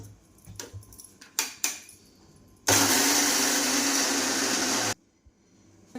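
A few clinks and knocks, then a mixer grinder grinding lentils roars loudly for about two seconds before cutting off abruptly.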